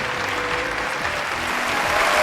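A crowd in the Hollow Knight video game applauds and cheers in a steady, dense wash of clapping that holds throughout and then cuts off abruptly.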